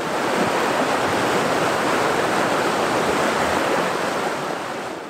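A swollen river rushes in full flood as a radio-drama effect, a loud, steady roar of churning water filling the scene without a break and easing slightly at the end.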